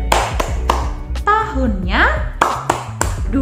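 Rhythmic hand clapping in a kindergarten class session, several sharp claps spaced through the clip between and under a woman's and a child's speech.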